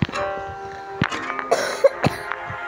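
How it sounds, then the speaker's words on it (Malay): A few sharp coughs burst out against a background of electronic Geometry Dash game music and tones, close to the microphone. "Batuk pula aku."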